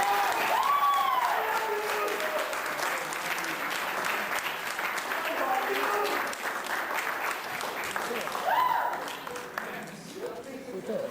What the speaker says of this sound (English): give your coordinator and your teachers, if they'll stand, a big round of applause